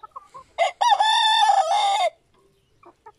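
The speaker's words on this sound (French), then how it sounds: "Deux belles poulettes et un coq." A rooster on a farm gives one loud, close, drawn-out crow, with short clucks from hens before and after it.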